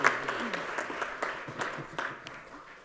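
Audience applause after a talk at an innovation event, a steady patter of many clapping hands that fades toward the end, without speech.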